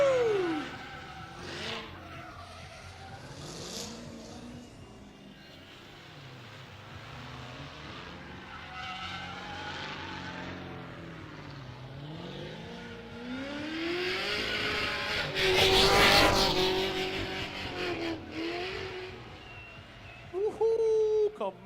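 A car drifts at a stunt show, engine revving and wailing up and down in pitch with tire squeal and a loud burst near the end, crowd noise and a commentator's voice over it.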